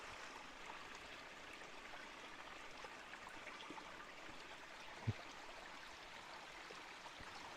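A shallow creek flowing steadily, a soft continuous trickle and babble heard close but quiet, with one small splash midway and no talking.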